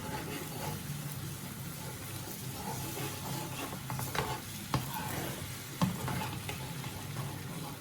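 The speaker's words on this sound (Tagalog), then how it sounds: "Give that a stir" Homemade barbecue sauce being stirred in a pot, a steady low bubbling simmer with soft scraping strokes and a couple of sharper clinks of the spoon against the pot.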